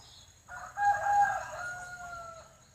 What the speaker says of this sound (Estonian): Näe, ja kukk kireb ka meie auks.